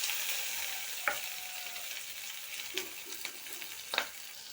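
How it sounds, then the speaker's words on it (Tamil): Small shallots and green chillies sautéing in a pan for an egg curry, a steady soft sizzle broken by a few sharp clinks of a spoon stirring against the metal, with no one talking. "இது நல்லா வதக்கிக்கோங்க வெங்காயம் நல்லா இப்போ வதங்கிருச்சுங்க"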